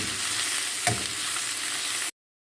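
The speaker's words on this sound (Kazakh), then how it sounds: "екі жағынан қызартып, қуырып аламыз." Meat sizzles and fries in a hot pan as a loud, steady hiss with a brief clatter partway through, cutting off abruptly after about two seconds.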